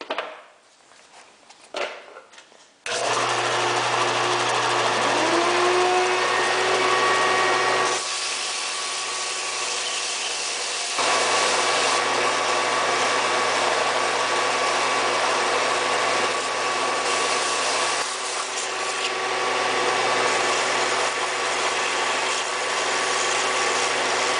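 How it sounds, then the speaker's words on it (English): Steady motor whine of a Harbor Freight belt sander with a 180 grit belt grinding a straight razor blade, running continuously for about twenty seconds after brief handling noises, with small shifts as the blade is pressed and lifted. "This is just a Harbor Freight belt sander"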